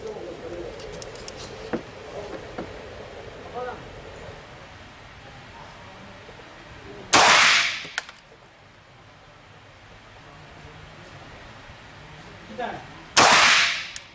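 Two loud, sharp shots from a Smith & Wesson 5906 pistol, spaced several seconds apart with a brief echo after each, with faint background noise and light clinks between.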